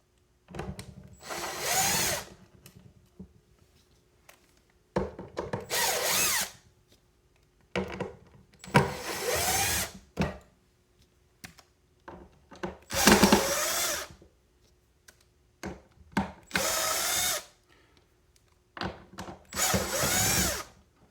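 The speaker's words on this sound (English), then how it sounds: "You can use a screwdriver, but it's a little faster with a drill." A power drill whirs in repeated short bursts of a second or two, separated by brief pauses, removing back screws from a safari-style harmonium, close up with no talking.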